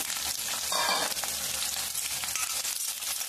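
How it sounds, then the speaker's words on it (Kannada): Chopped onions frying in a pan with oil for tomato chutney, a steady close hiss and crackle of sizzling with occasional stirring, no voices. "ಈಗ ಹೆಚ್ಚಿಟ್ಕೊಂಡಿರೋಂಥ ಈರುಳ್ಳಿನ ಇದಕ್ಕೆ ಸೇರಿಸ್ಕೊಂಡು ಅದನ್ನು ಹುರ್ಕೋಬೇಕು"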